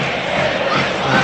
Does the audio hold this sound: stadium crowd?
yes